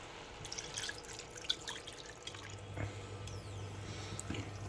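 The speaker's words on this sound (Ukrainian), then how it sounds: "до томатної пасти ми додаємо 200 мл води" Water being poured into tomato paste while making borscht, faint trickling and wet squishing sounds, close and quiet with small drips throughout.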